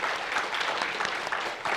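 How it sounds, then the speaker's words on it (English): Audience applause fills a convention panel room, a dense, steady patter of many hands clapping at close range for nearly two seconds, with no voices over it. "I would like you guys to give a round of applause to all the hardworking staff in the back who helped put this together."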